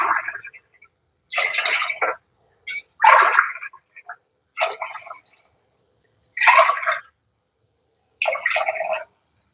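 Water poured glass by glass onto half a kilo of ration rice in a pot for meal maker biryani, heard as about five separate splashing bursts with short pauses between them.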